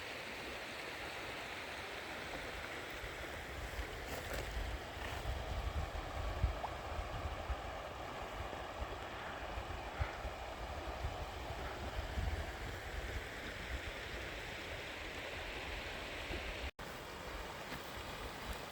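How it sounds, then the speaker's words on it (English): A calm, peaceful river flows in a soft, even rush of water, steady and unbroken from start to end, with no voices over it. "This is such a calm and peaceful river."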